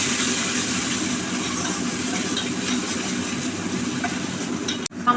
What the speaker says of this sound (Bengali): সামান্য জল দিয়ে মশলাটা কষে নেব।